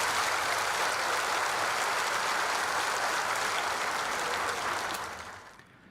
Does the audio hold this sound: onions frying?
no